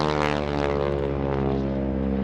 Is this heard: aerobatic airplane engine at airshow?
yes